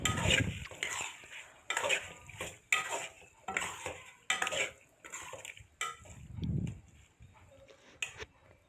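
A spoon stirs chopped green chilies into chicken white karahi in a metal pot, giving a series of scraping, clanking strokes at an irregular rhythm, close and moderately quiet, with no talking.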